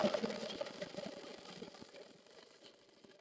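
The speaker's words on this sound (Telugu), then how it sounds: "చూడండి ఎలా కుడుతున్నాను ఎంత చక్కగా ఎంత పర్ఫెక్ట్గా వస్తుందో తెలుసా" A sewing machine stitches a fall onto a saree, giving a steady, rhythmic mechanical whirring with fast repeated needle ticks. It is close and moderate in level, easing slightly toward the end.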